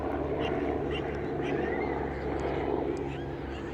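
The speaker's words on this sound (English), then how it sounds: "Let's get a shot of the helicopter. It's much higher than the drone is." A helicopter flies high above Shoreditch in London, its faint, steady rotor drone continuous and distant over the low hum of the city.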